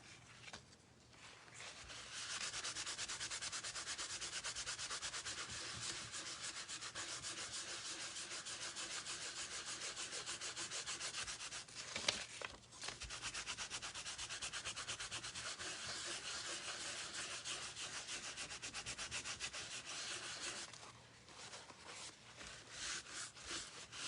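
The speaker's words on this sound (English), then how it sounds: "And you just rub off the excess with your paper towel." A paper towel rubs excess material off a crafted piece, making a steady, close scratchy rubbing that runs continuously for about twenty seconds with a brief pause midway.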